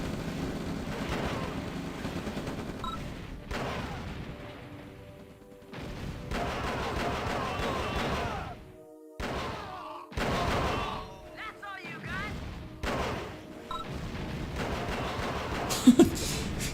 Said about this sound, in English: Getting shot by 4 tanks, doesn't care.